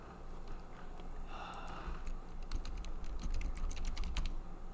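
Rapid clattering keystrokes on a computer keyboard, close and uneven, in bursts that grow denser toward the end of a quiet room.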